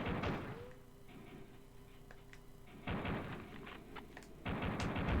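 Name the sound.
explosions in a video game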